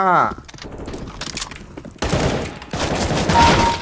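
Loud bursts of rapid gunfire from the shooter CS:GO, a short rattle early on, then heavy sustained volleys after a brief pause, with a voice speaking between shots.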